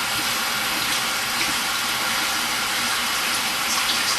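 Running water from a tap rinses a makeup brush, giving a steady, close hiss of flowing water with no voices.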